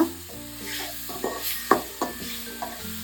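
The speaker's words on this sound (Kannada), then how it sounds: "ಬದನೆಕಾಯಿ ಬೇಗನೆ ಮೆತ್ತಗಾಗ್ಬಿಡುತ್ತೆ ಎಣ್ಣೆಯಲ್ಲಿ ಈ ಥರ ಫ್ರೈ ಮಾಡಿಕೊಂಡಾಗ" Brinjal pieces frying in oil for a tangy tamarind eggplant thokku, with soft sizzling and a few scraping stirs over a steady low background hum.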